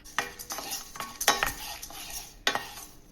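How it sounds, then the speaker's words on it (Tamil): Roasted gram (pottukadalai) being lightly dry-roasted in a pan for rava laddu, with a few sharp scraping and clinking stirs against the metal over a soft rustling background, no voices. "இப்போது பொட்டுக்கடலையையும் நம்ம லைட்டாக வறுத்து எடுத்துக்கலாம்."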